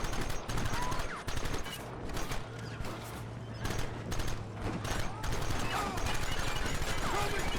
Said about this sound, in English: Shooting at it works.